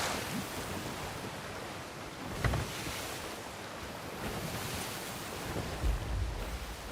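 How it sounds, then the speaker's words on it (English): Ocean waves in the Sea of Thieves video game wash and surge in a continuous roar. Several heavier splashes hit close by. No one speaks. "we're getting hit by a lot of these waves"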